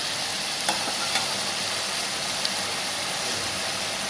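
Chilli chicken frying in a pan, a steady loud sizzle and hiss with a few faint clicks and stirring taps, continuous and close, no talking.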